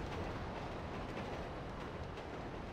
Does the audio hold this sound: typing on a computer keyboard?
no